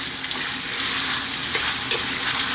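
Lamb pieces with fat and bones frying in olive oil over medium heat, a steady dense sizzle throughout with no talk.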